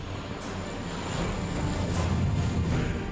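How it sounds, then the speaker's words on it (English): A steady roar of a water bomber aircraft passing overhead a fire, a broad droning engine noise that swells slightly and holds. "The 2 water bomber helicopters are already on site."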